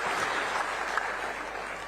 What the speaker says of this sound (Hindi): एक बार जोरदार ताली आप मन सब जन भर के